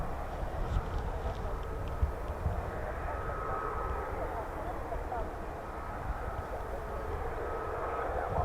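F-35B stealth fighter jet engine at RAF Marham, a steady broad roar holding for several seconds with a faint whine on top, moderately distant and constant.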